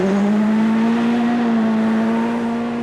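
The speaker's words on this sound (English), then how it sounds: "Juha Kankkunen heads off into the forest in the second of the Toyotas." A 1984 Toyota rally car on a New Zealand World Rally Championship stage, steady loud engine drone holding a high rev as it drives off into the forest, with no talk over it.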